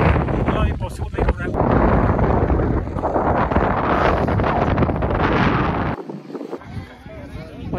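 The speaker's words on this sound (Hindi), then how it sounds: "बहुत तेज हवा यहाँ पर" Strong wind on Mount Titlis in Switzerland, loud gusts roaring across the microphone almost throughout, with a voice talking briefly over it and a short lull near the end.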